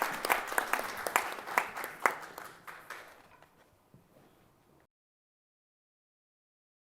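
Audience applause at the closing ceremony of a film festival, a burst of clapping in the hall that thins and fades out over a few seconds, then silence.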